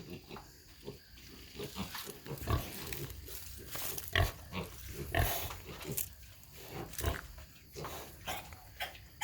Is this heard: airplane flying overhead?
no